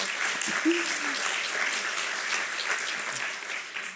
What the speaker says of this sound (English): let's have a round of applause for Isabel